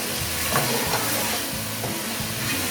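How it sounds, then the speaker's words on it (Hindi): Chicken pieces fry in a pan for yakhni pulao, giving a soft continuous sizzle with faint bubbling and no voices. "चिकन को थोड़ा सा हम कलर बदलने तक फ्राई कर देते हैं।"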